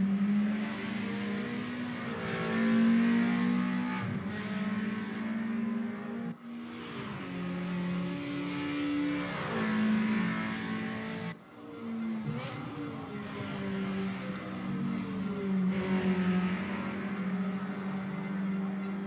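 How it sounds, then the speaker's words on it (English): Racing cars in a BMW racing video game lapping the Nordschleife, engines droning steadily and loudly with rising and falling revs as cars shift gears, continuous throughout with no talking. "listen to the cars for a second"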